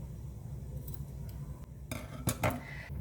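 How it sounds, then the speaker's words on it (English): Scissors snipping through T-shirt yarn during a crochet project, a couple of short close crisp cuts near the end after quiet handling, no talk. "So now we cut the yarn."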